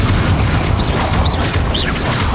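Confringo blasting spells in the game Hogwarts Legacy make a continuous loud roar of booming explosions and crackling debris, dense and close with no pauses.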